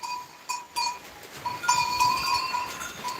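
Several goats bleat close by on a farm in rainy weather, a few short nasal cries rising over a busy background of bells and shuffling, with no talk.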